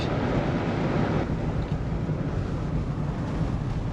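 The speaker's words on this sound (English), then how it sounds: "Yeah, it is really windy." Loud, constant roaring rumble of strong wind buffeting the microphone inside a van driving across a bridge, dense and unbroken throughout, with no voices.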